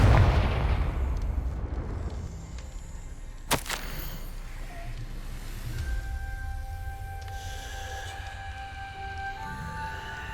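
Confringo fire spell blast in the video game Hogwarts Legacy, a loud booming explosion up front that rumbles and decays, then a sharp crack and fading debris, followed by sustained tonal game ambience.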